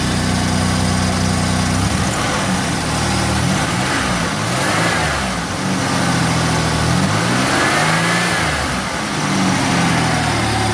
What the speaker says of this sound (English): As you can hear, it's running just fine.